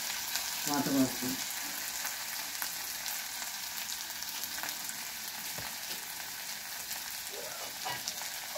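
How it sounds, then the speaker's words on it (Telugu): Water poured into a hot pan while cooking upma hisses into a steady, close sizzle and bubbling that carries on evenly, with a brief clatter near the start. "వాటర్ పోస్తాను"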